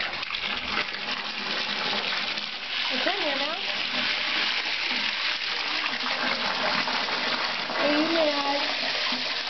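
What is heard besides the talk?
water being poured while swapping out a pet's water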